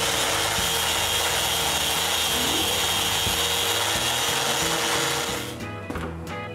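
Wooden band saw parts being sanded with a power sander, a steady loud whirring grind that runs without a break, then eases off near the end, with no voices.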